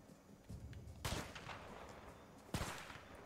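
Sniper rifle fire in the video game A Way Out, two sharp booming shots about a second and a half apart over a low, steady background rumble, fairly faint.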